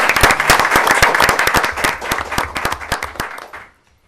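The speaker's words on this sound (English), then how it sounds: "we should probably give him a round of applause" Loud, dense applause from a school board of education meeting audience, steady clapping that tapers off and stops just before the end.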